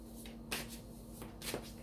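Tarot cards are shuffled by hand, giving two short papery riffling bursts about a second apart, faint and close against a quiet room.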